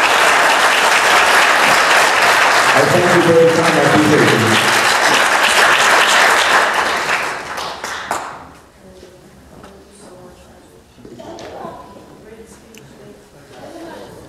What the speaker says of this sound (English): give these parents a round of applause they deserve